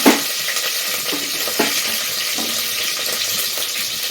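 Fennel seeds, curry leaves and a large onion fry in a pan for crab soup, making a loud, dense sizzle that runs throughout, with a sharp splash at the start and occasional spoon knocks.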